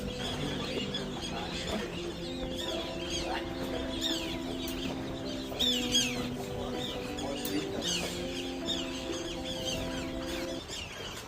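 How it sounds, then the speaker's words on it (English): River terns chirp in short, repeated high calls at a safari resort, faint against a steady tonal drone in the background. "The chirpings of the bird that we hear, these are actually the river tern"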